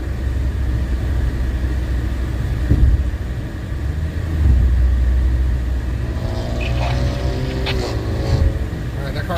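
A car on a Bakersfield, California street at night lets out low, sputtering, flatulent engine blats amid constant traffic rumble, with people talking over the noise.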